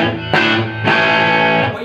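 Pick-played electric guitar through a Megatone Vostok amp's rhythm channel with gain at noon: two bright, sharply attacked chords, each ringing out, loud and up close with no voice.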